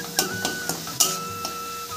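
A spoon clinks and scrapes against a pan while stirring a paste of ground mustard flowers and leaves with salt and turmeric, a few sharp taps in quick succession, close and clear with no talk.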